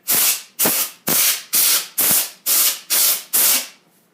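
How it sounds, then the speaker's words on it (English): Compressed air sprays in eight short, forceful hisses, evenly spaced, into the back of a computer to blow out dust. The bursts are close and loud with brief gaps between them. "Flip your computer around and spray the back here."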